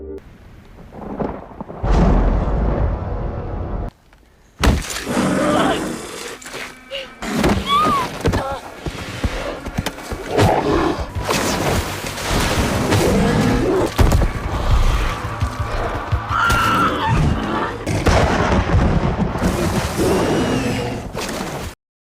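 Thunder in a sea-monster film scene: loud rolling crashes and rumbles with rain on surfaces, a brief drop to near-silence before another heavy burst, with a voice talking intermittently over the storm.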